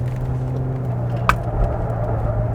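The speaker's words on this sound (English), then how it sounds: "now let's put the car back into sports mode because we're gonna try the corner very, very soon" A Hyundai Palisade all-wheel-drive SUV in sports mode, in third gear, takes a corner. A steady low engine and road drone fills the cabin, broken by one brief sharp tick midway, with no talking.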